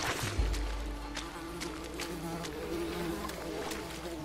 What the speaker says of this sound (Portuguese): Esses mosquitos ficam enchendo o saco.